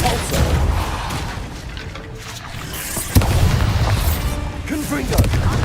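A Repulsor spell blasts in Hogwarts Legacy amid other combat spell effects, with heavy booming impacts and a sharp burst partway through over a busy, rumbling background.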